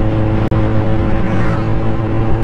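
A Kawasaki C800 motorcycle, modified with a slip-on exhaust, filter and power commander, holds a steady, throaty engine rumble that fills the short stretch with a continuous droning tone.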